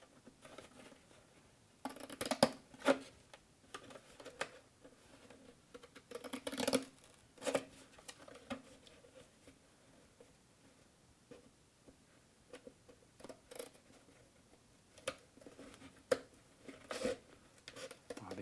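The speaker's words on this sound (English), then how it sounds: "Wow, these scissors really suck." Scissors snipping through beer box cardboard, a few sharp, scattered cuts with quiet rustling between them, close and fairly soft.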